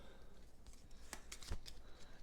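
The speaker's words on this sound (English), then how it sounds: "So we can shuffle these up" Cards for the Battlestar Galactica board game are shuffled by hand, giving a few quick, soft riffling bursts close up with short pauses between them.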